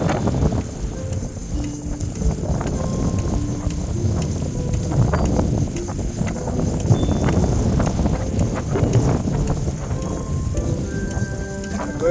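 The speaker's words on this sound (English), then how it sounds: "gust of wind here off the lake." Strong gust of wind off a lake buffets a bike rider on a park loop trail, a loud continuous roaring rush with rumbling low noise and no talk.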